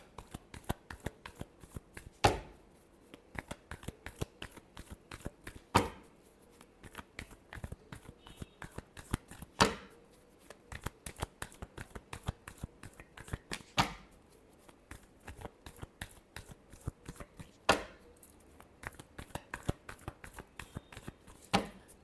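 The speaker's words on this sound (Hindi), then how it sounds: "last shuffle" Tarot cards are shuffled by hand over and over, making quiet, close, papery riffles and flicks, with a sharper snap of the deck landing about every four seconds and no voice.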